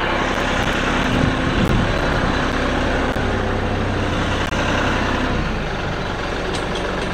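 A tractor idling while a cheap grapple attachment cycles open and closed, a continuous loud diesel drone with hydraulic whine and faint metallic clanks layered on top.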